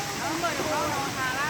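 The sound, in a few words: Erawan waterfall, Kanchanaburi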